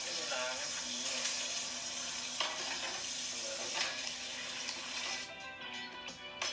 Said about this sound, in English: Ah, cleaning dishes together.